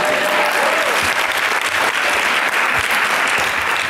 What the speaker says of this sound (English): figured I'd get a bigger applause for that one.